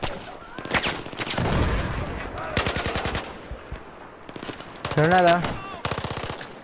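Machine-gun bursts and rapid gunfire from the Battlefield 4 campaign ring out in repeated loud volleys, with a few short spoken words between them.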